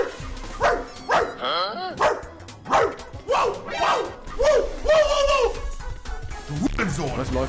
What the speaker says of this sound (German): Monte der Hund.